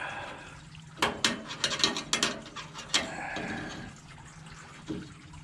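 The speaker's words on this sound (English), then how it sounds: "we're carefully going to take this screw out" A sheet metal screw is backed out of a Whirlpool Duet dryer panel, giving close, quick bursts of ratcheting clicks with short pauses between turns.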